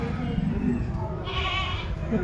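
Sheep and goats bleating at a rural animal fair in Muktsar, with one clear bleat rising briefly over the steady murmur of people talking nearby.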